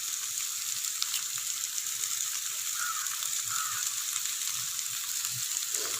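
Curry leaves hit a pan of frying chicken thoran in a Kannur-style home kitchen, giving a steady, close hiss of sizzling oil that runs unbroken with a few soft stirring scrapes and no talk.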